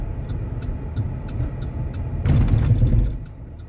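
A car rolls in neutral down a slope near Madinah, a low, steady road rumble from inside the vehicle that swells briefly louder partway through before settling back down.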